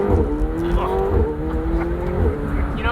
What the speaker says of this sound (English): They turn off the spark plugs during the gear change.